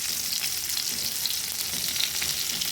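Fried mango pieces sizzle loudly with salt, turmeric and chilli powder added for a mango chutney, a dense close crackling hiss with faint stirring.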